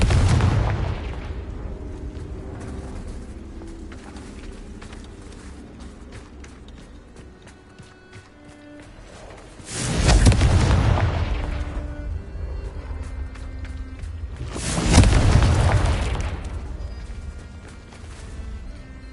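Confringo fire spells exploding in the wizarding game Hogwarts Legacy: two heavy, booming blasts about five seconds apart, loud and close, over a low game soundtrack.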